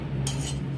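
A spoon scrapes and clinks in a bowl while thick curd is mixed into rice, giving one short, close, soft clatter under a low steady hum.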